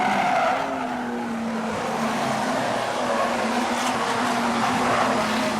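Production sedan race cars roll toward the start-finish line at Maryborough Speedway in a dense, continuous engine roar with tire noise, loud and steady throughout.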